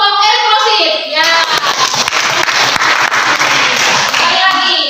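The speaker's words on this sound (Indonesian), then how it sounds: "kita berikan aplaus untuk kelompok eksklusif ya" Students in a classroom applauding a group after a presentation, a dense burst of hand clapping that swells in after a teacher's voice and continues with scattered children's voices.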